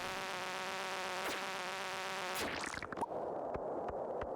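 Flying insect creatures in the Stardew Valley video game give off a continuous droning buzz that swells, then cuts into scattered soft game hits and thuds, with no talking.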